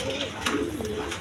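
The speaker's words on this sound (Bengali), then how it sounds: "বন্ধুগণ এইখানে এক পেয়ার আপনার গিরিবাজ কবুতর আছে, মসলদম" A pair of Giribaz pigeons coo close by, soft throaty burbles rising and falling over a faint background murmur, with a few brief rustles between calls.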